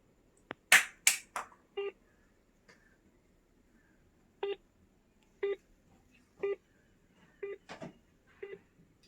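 A mobile phone dials out and rings, with a few sharp taps followed by a run of evenly spaced electronic ringback tones, clear and close against near silence.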